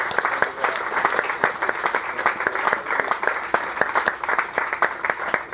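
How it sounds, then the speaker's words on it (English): Audience applause at a racing owners club event at Oulton Park during the British Touring Car Championship weekend, dense steady clapping from a crowd filling the room for several seconds without talk. "Round of applause."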